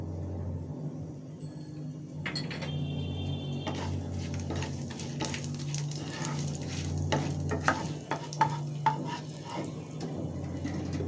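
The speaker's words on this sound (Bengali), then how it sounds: "দিয়ে দিচ্ছি জিরা ফোড়ন।" Cumin seeds tempering in hot oil for a potato and pointed gourd curry with hilsa fish head, a quiet steady sizzle with scattered crackles and pops that grow sharper toward the end, no talk.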